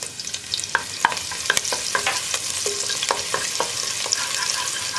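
Spring onion whites sizzle steadily in oil reused from frying chicken for Schezwan noodles, with a spatula scraping and tapping the pan in irregular clicks over the constant hiss.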